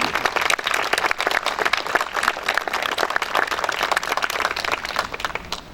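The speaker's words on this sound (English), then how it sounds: "could you just please a round of applause for the staff and for everyone else" A ceremony audience at a historical marker celebration claps in a dense, lively round, loud and close, holding steady from start to finish.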